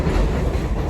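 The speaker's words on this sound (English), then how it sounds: "even for this train that's interrupted me" A passing train rumbles loudly and steadily nearby, a dense low roar of wheels on rail with no voices over it.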